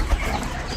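A pet pigeon in a rural Bangladeshi village gives a short, close, fairly loud coo lasting under a second.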